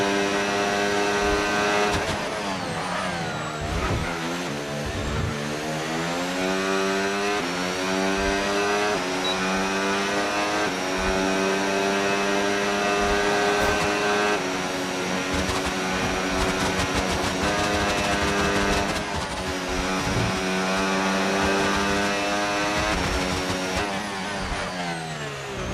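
A Formula 1 race car engine in the F1 26 racing game screams loudly and continuously, rising and falling through repeated upshifts and downshifts as the car laps the track.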